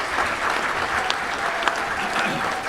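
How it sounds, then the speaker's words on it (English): Banquet audience at a Little Rock touchdown club luncheon claps steadily for the executive director, a full, even wash of applause with a few sharper individual claps, continuous throughout. "let's give a big round of applause for their fearless leader, our executive director, Debbie Wyman."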